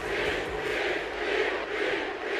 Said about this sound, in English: certainly a capacity crowd and loud at that here in the Giant Center, Hershey, Pennsylvania